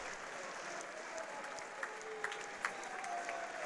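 Applause from a crowd at a combat-sports event greets the official fight verdict, a steady dense wash of clapping with a few sharper claps standing out, fairly distant and moderately soft.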